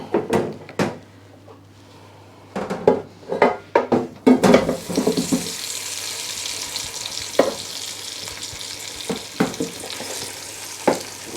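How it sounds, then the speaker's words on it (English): Roast potatoes, broken up slightly, tipped into a hot pan, with a clatter of pieces landing and scraping, then a steady hiss of frying and occasional knocks of utensils, close by. "So I'm just going to tip half of these in."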